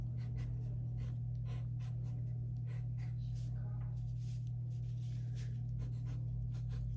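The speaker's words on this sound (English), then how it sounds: "So let's go ahead and draw out those stars." A pen scratches steadily on craft paper, drawing stars onto the blue section of a paper American flag from a parks craft kit, the soft strokes repeating over a constant low electrical hum.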